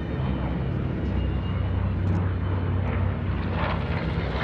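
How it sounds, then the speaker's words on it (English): A World War II B-17 bomber flies past at an air show weekend, its piston engines producing a loud, steady, droning propeller roar that holds throughout with no talk. "B-17 looking at the top of the wing as it comes by in a photo pass"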